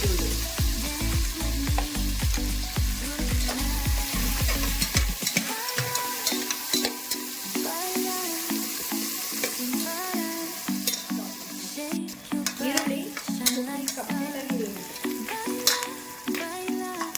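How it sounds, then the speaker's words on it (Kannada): Onions for mutton biryani sizzle and fry in hot oil until golden brown, with stirring and clattering of a spoon against the pan at first, then a steady close crackle and hiss throughout. "ಈರುಳ್ಳಿ, ನೋಡಿ ಇವಾಗ ಗೋಲ್ಡನ್ ಬ್ರೌನ್ ಬರಕ್ಕೆ ಶುರು ಆಗಿದೆ."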